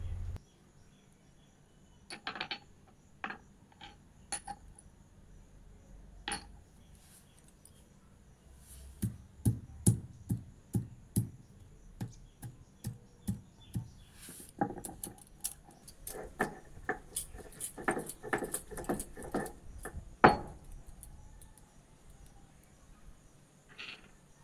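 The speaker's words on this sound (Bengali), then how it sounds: "এখন আমি বাটছি রসুন, এরপর আদা, তারপর জিরে আর ধনে একসাথে বেটে নেব" Garlic, ginger, cumin and coriander ground into paste for egg curry, heard as irregular close knocks and clacks of stone pounding and scraping, sparse at first then denser and more rhythmic toward the end.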